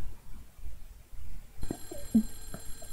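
A telephone bell rings in the retro horror video game Clock Tower, a steady electronic ringing that starts partway through over quiet background noise.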